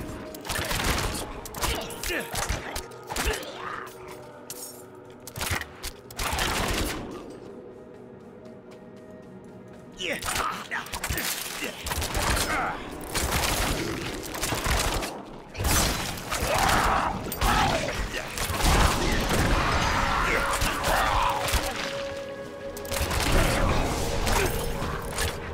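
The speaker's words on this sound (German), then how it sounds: "Wie viele Schüsse ich alleine für einen normalen Gegner brauche." Gunfire in the video game Diablo 4, repeated bursts of shots and mechanical clanks in uneven clusters, with a quieter lull midway and game sounds throughout.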